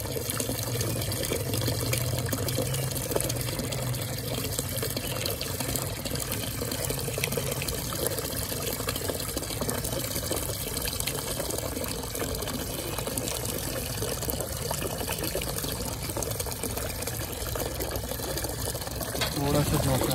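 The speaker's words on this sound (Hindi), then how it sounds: "ये पानी की बाल्टी जैसे जैसे भर रही है" A bucket filling with water from a tap, a steady continuous pour and splash that runs throughout, with someone talking over it.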